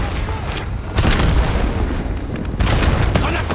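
Two heavy, booming blasts from a sticky bomb explosion in the Call of Duty Black Ops 7 shooter game, loud and close, set against a dense rumbling battle background.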